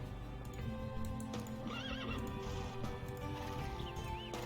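Horses whinny several times amid steady clip-clop hooves in Age of Empires II, with a busy low rumble of game sounds beneath them.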